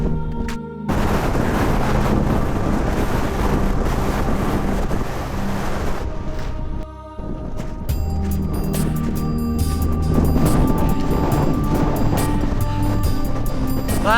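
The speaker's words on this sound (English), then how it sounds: "let's get out of the wind" Strong wind buffets the microphone on a mountain hike up Donner Peak near Lake Tahoe, a loud continuous roar that dips briefly near the middle before surging back.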